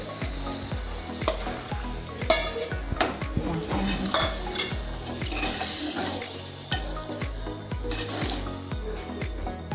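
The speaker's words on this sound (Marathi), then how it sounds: "त्याच्यात वाटाणे आपण टाकून घेऊयात" Cooked black peas are tipped into a spiced masala whose oil has separated, then stirred in a pan, producing a steady close sizzle with repeated scraping and clinking of the spoon against the pan and no voices.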